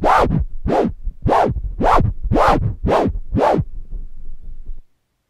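Turntable scratching: seven rhythmic, evenly spaced record strokes, each a quick rising-falling swipe with a stuttered flare edge, loud and close, then silence.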